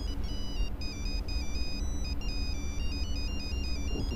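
A mobile phone ringtone plays a repeating electronic melody of short beeping notes, loud and continuous over a steady low background rumble.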